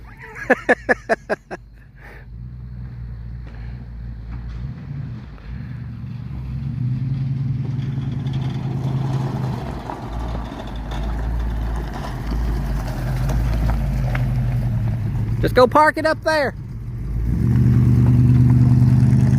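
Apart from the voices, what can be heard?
classic car engine with old exhaust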